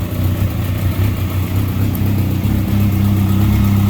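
A 2013 Kawasaki ZX-6R 636 fitted with an Akrapovic exhaust runs close by, giving a loud, steady engine drone with a deep rumble that swells a little toward the end.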